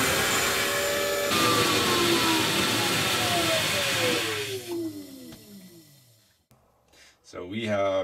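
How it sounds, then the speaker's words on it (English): An off-grid hydro power generator runs with a loud, dense whirring roar whose pitch sinks steadily as it winds down, then drops away to near quiet before a voice speaks at the end. "we have a hydro power generator. This is like the Cadillac of off-grid power systems. It's awfully loud."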